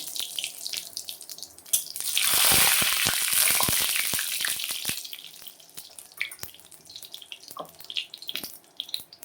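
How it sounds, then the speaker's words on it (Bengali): Half a teaspoon of nigella seeds tempering in hot oil in a kadai, a sudden loud hiss and crackle that swells then settles into lighter popping and spitting. "তেল দিয়ে দিলাম আমি হাফ চা চামচ কালো জিরা ফোড়ন দিয়ে দিলাম"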